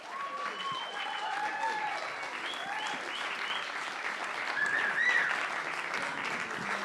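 Warm audience applause at a live music venue, a steady wash of clapping from a small crowd with a few whoops and cheers rising near the end.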